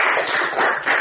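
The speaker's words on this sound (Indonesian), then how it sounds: "Ya bagus, tepuk tangan" Applause in an Indonesian classroom after a student presentation: a short burst of dense, many-handed clapping, near and fairly loud, with no talk over it.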